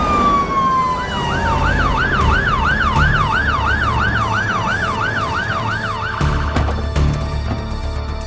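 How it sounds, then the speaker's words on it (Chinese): An ambulance siren wails in a steady, rapid up-and-down pattern, loud and close over a low traffic rumble, with no voices. "我叫了救护车，很快就要到了"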